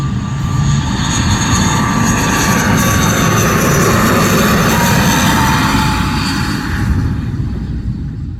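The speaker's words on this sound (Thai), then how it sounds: "จะลงทางรันเวย์05เนาะ เพราะว่าเส้นบินเพิ่นก็บินจากเชียงใหม่ตรงมาลงเลย05" A fixed-wing airliner lands on runway 05 at Luang Prabang International Airport in Laos. The loud, close engine roar stays steady and unbroken throughout.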